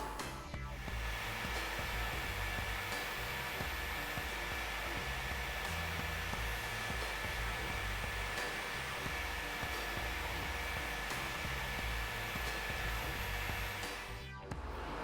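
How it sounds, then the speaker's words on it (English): An electric fan blows to dry freshly applied makeup, a loud, even whirring drone that holds steady for about fourteen seconds and then cuts off. "I like to use a fan. And dry all of this."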